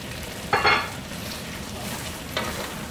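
Callaloo being stirred in a pot, a soft simmering hiss under two brief louder scrapes of a spoon moving through the wet greens, close and fairly quiet.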